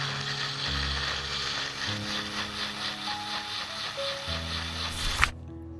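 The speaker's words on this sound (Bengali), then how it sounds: "আমরা এবার এই সসটাকে ব্লেন্ড করে নেব।" Mixer grinder blending a fish curry sauce for bhetki meen moilee, a steady close motor whir with grinding texture running for about five seconds before cutting off abruptly.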